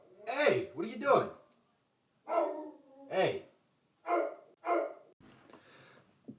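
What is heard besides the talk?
dog barking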